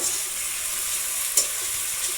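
Ginger and garlic sizzling in a cooking pan over a gentle flame, a continuous close frying hiss with stirring and one sharp clink near the middle, no voices.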